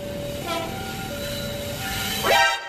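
A toy Thomas train rumbles steadily with a sustained squealing tone, ending in a rising screech and clatter as it passes close by.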